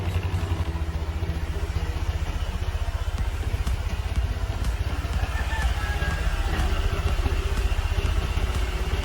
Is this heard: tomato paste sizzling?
no